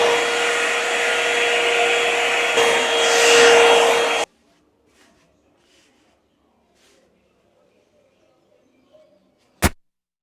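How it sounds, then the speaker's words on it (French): A hair dryer drying hair gives a loud, steady whooshing blow with a faint whine for about four seconds, then stops abruptly, leaving near silence and a single sharp click. "je vais utiliser à nouveau le sèche-cheveux pour sécher complètement les cheveux."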